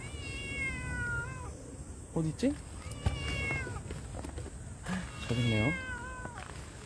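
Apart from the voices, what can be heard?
cat meowing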